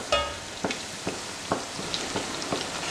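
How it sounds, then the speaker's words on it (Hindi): Semolina and potato puris fry in hot oil, a quiet bubbling sizzle broken by soft crackling pops at a fairly regular pace. "जैसे ये फ्राई अच्छे से हो जाएगी, फूल के ऊपर आ जाएगी"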